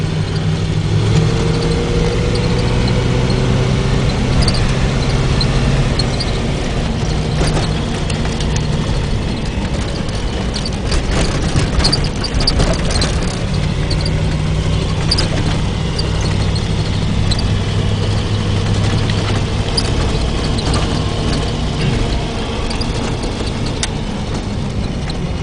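An International Scout engine drones steadily from inside the cab as the vehicle drives over a rough road onto pavement, with road rumble and occasional knocks and rattles throughout.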